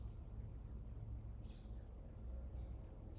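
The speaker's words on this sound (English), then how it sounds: "I can hear mama bird," A mother bird calls near a backyard nest, giving three short, high chirps spaced about a second apart, faint over a steady low outdoor background hum.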